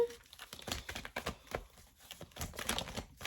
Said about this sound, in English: All right, I'll do a few more shuffles here.